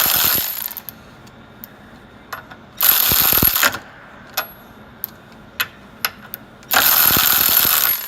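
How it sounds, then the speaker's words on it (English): A cordless ratchet whirs in three loud bursts as it tries to break its own nut free, separated by sharp clicks and clinks of metal in between. "let's see if these tools can break their own nut free."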